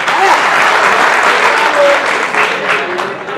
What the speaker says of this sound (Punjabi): ਤਾੜੀਆਂ ਮਾਰੇ